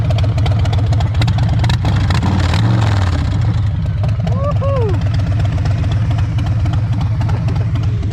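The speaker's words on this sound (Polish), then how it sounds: "Tu silniczek jest niestety mniejszy, 107, bo tam mam 114, ale zobaczcie jak to brzmi" A Harley-Davidson Street Bob with a 107 cubic-inch V-twin runs outdoors with a loud, steady, deep rumble that holds close and constant throughout.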